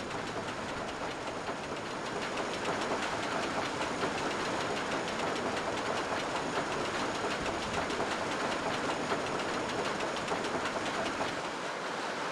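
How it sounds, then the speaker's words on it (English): A loaded train on the Matland Express pulls into a station in the video game RollerCoaster Tycoon 3. A steady, loud rolling rumble with faint clickety-clack runs throughout, with no talking. "As you can see, we got a full train coming in on the Matland Express."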